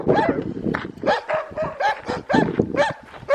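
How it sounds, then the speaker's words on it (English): Several dogs bark repeatedly at visitors along a remote roadside, loud and close, with a steady run of barks and yips and no speech over them. "The dogs don't appreciate our visit too much."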